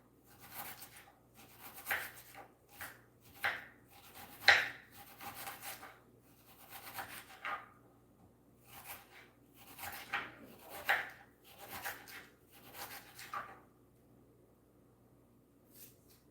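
Knife chopping onions on a wooden cutting board for a turkey and vegetable soup, a quiet series of uneven cuts in short bursts with pauses between, close and fairly soft.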